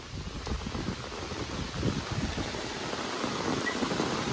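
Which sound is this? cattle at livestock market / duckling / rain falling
rain falling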